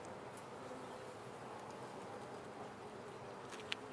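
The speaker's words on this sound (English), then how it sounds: "I have a lot of bees bouncing off my veil right now." Honeybees buzz in a faint, continuous hum around a beekeeper's veil at an outdoor hive, one small tap near the end, no voices present.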